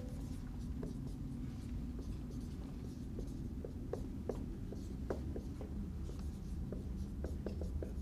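Chalk or marker scratches and taps across a board during an organic spectroscopy lecture, with irregular short strokes and ticks over a steady room hum, moderately close and without speech.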